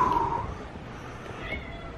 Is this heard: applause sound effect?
no